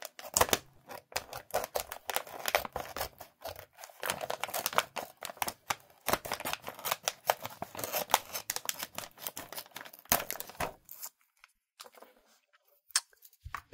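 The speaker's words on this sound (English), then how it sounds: "So I have my little scissors here." Repeated crisp snipping and crinkling as small scissors cut through a plastic bag of Japanese hot chili potato chips, close and busy, with a few quieter pauses near the end.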